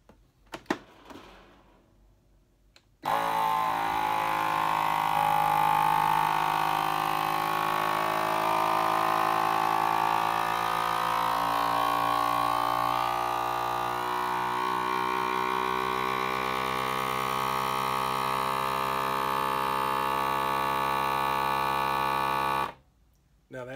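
A vacuum sealer pumps air out of a jar of rice for long-term food storage, a loud, steady motor drone with a buzzing tone that runs unbroken for about twenty seconds before switching off abruptly.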